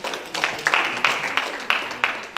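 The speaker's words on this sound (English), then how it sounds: "A round of applause." Applause welcomes a speaker at a university project writing workshop, a sparse, fairly close clapping with distinct claps landing at an uneven rhythm from a smallish audience.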